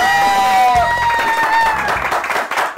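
Studio audience on a Turkish daytime cooking competition show breaks into applause and cheering after a result is revealed, a loud, sustained crowd roar with clapping and whoops, a host's voice and a tonal music sting running over it.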